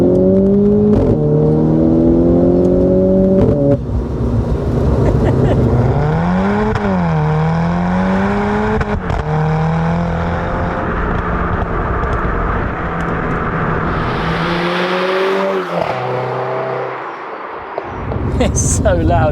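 A stripped-out, track-spec 257 bhp Renault Clio RS accelerates hard, its loud engine note climbing through repeated gear pulls and dips, heard from inside the cabin with voices talking over it.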